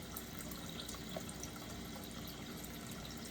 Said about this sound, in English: I will fill this up probably twice to make sure I have a good stock.